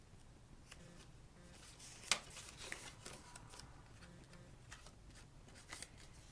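Layers of paper card stock are handled, shifted and aligned for a baby card front, giving quiet, sparse rustles and light taps with one sharper snap near the middle, close by and without talk.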